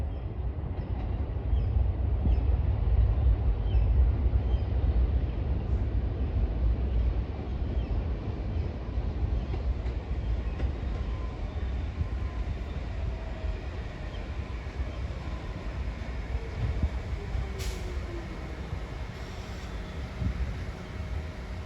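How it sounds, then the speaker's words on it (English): A Tottenville-bound train pulls into Pleasant Plains station, a low steady rumble with a faint wheel screech near the end, heard outdoors under mild wind without any talking. "here we have a Tottenville bound train arriving at Pleasant Plains"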